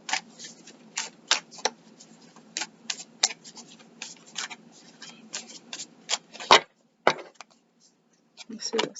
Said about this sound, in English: Cards don't want to shuffle right.